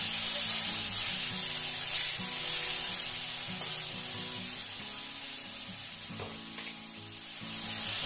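Boiled broccoli florets frying in a pan, a continuous soft sizzle alone with faint steady hiss and a few gentle stirring sounds.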